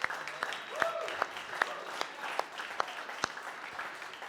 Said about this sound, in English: please let's give everyone on the Fisker team a round of applause